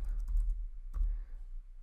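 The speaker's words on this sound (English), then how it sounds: "So I will type a command, create stage, then the staging area." Keystrokes on a computer keyboard as a command is typed into a Snowflake data console, a quick cluster of soft clicks followed by a single sharper tap, close and quiet with no talking.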